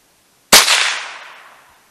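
A single sharp crack from a .22 LR rifle fired into ballistic gel outdoors at 40 yards, loud and close, followed by a short fading echo.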